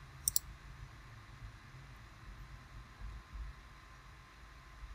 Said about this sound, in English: click on connect button here